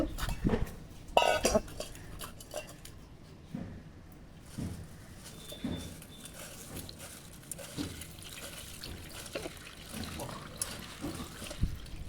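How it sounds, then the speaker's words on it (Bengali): Flattened rice is washed with water in a sieve, with soft sloshing and splashes, clinks of the bowl and sieve, and scattered handling noises at moderate volume. "এটাকে ভালো করে ধুয়ে পরিষ্কার করে নেব আর এই চালনি দিয়েই আমি পরিষ্কার করব"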